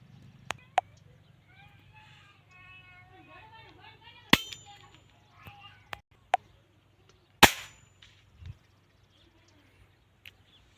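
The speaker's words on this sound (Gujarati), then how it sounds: "જાડો મોટો ફટાક્યો ફૂટે ને એવો અવાજ કરે" Sharp cap pops from a homemade toy pistol firing Diwali caps, several loud isolated cracks spaced over a few seconds, with a bird chirping and a low background hum between shots.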